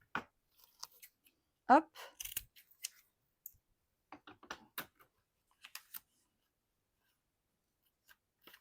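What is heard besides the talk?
cutting protective backing film during a craft project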